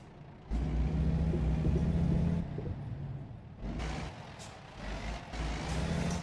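A heavy truck in American Truck Simulator rumbles loudly while reversing, its engine droning steadily. Repeated backup beeps sound over it, along with an air-brake hiss, and the engine note rises and falls.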